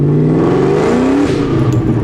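A loud, close Ford Mustang GT V8 exhaust revs up and holds a deep rising growl, then eases back slightly.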